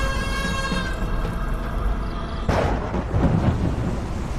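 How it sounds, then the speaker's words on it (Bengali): Torrential rain and strong wind on a moonless night roar steadily, with a loud thunderclap bursting in midway and the downpour swelling afterward. "হঠাৎ করে মুষলধারে বৃষ্টি হতে শুরু করে। জোরে হাওয়া আসে।"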